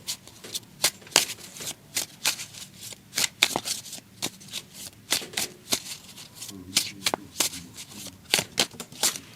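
Oracle cards are shuffled by hand in quick, crisp riffling bursts that repeat in an uneven rhythm, close and fairly quiet, with a voice speaking softly in between.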